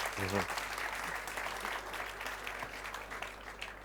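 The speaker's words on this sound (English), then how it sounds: "Your applause." Applause from an audience after a data science talk, a quiet, distant wash of clapping that holds steady for a few seconds after a short low tone at the start.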